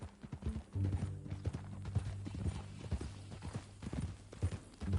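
Horse hooves clip-clop in a steady, uneven rhythm at close range in Red Dead Redemption 2, with faint low tones beneath and no talking.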